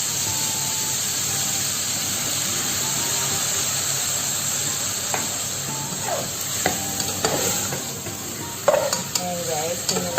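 Pork adobo with soy sauce and pineapple juice sizzles steadily in a pan, a loud continuous frying hiss with occasional stirring scrapes and clinks of a utensil against the pan toward the end.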